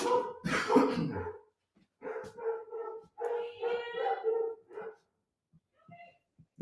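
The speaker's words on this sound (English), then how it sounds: "So all the dogs can bark." Several dogs barking excitedly indoors at someone arriving, loud clustered barks and yips in bursts with short gaps, trailing off into a few faint yaps.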